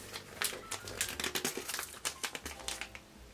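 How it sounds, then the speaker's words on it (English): Wrapping paper is peeled off a book subscription box, heard as close, quick bursts of crinkling and tearing in an uneven rhythm, with no talk. "back to unwrapping this thing"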